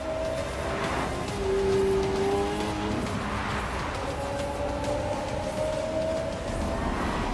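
All-electric 1,241 brake horsepower supercar with four electric motors driving along, a steady close road and motor roar with faint whining tones rising and falling, no voices.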